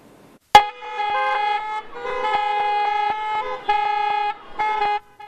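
Car horns honking from protesters lined up in cars outside City Hall, several loud sustained blasts of overlapping horns following a sharp onset, with short gaps between bursts.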